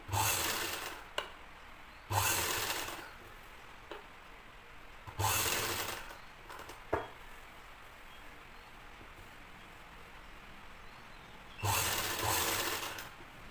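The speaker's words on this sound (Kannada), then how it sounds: "ಲೆಫ್ಟ್ ಸೈಡಲ್ಲಿ ಯಾವ ರೀತಿ ಸ್ಟಿಚ್ ಮಾಡ್ತಾ ಇದ್ದೀನಿ ಅಂತ ನೋಡಿ" Sewing machine running in short bursts while stitching thread piping along a blouse neckline with a double foot, with four loud whirring runs separated by quiet pauses and no talk.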